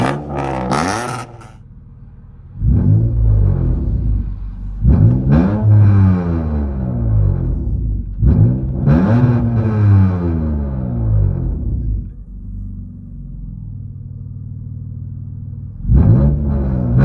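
Acura TL engine with a very loud modified exhaust, revved hard in several sharp bursts that climb and fall back, with a low rumbling idle between revs, close and dominant.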